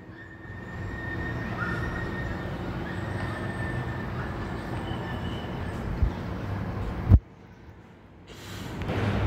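A container freight train passes close by: a steady, loud rolling rumble of wagons on the rails continues for several seconds, then cuts off sharply to near quiet before a fresh swell of noise.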